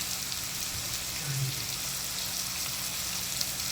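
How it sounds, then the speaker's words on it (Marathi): Chopped tomatoes sizzle steadily in a hot pan with turmeric and red chilli powder for masala bhindi, a continuous close frying hiss with no talk over it. "टोमॅटोला आपण 1-2 मिनटं परतूया"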